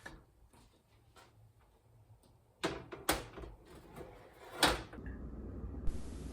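Pressure cooker lid after cooking soybeans, a few faint ticks and then several sharp metallic clanks and scrapes as the lid is twisted and lifted, close by.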